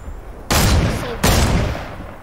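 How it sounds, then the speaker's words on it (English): Video game gunfire: two loud, close bursts of rapid shots that start sharply and then ring out and fade, with no voices. "I shot them like a million times"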